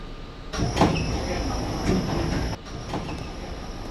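An R32 subway train on the F line in a video game rumbles along the tracks with rattling wheels and faint squeals, steady and fairly loud, with a brief drop partway through.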